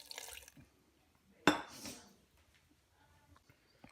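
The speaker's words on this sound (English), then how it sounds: "I'm gonna add some water." Water poured into a pan of cubed eggplant and potato for a curry: a single short splash with a clink of metal, followed by a brief trickle, alone in a quiet kitchen.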